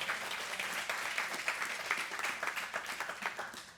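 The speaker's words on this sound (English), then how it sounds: "come on, clap it up" A live talk-show studio audience claps in a sustained, dense burst of applause that stays fairly even throughout, with no talk over it.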